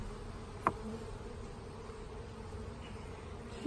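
Honey bees hum steadily around an open hive during nucleus hive setup, a faint continuous drone with one brief knock partway through and no talking.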